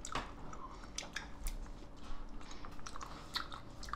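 Close-up chewing of raw oysters dipped in spicy red chili sauce, with soft wet squishes and bites in an irregular rhythm, heard alone without speech.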